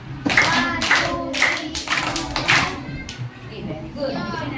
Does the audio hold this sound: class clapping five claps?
yes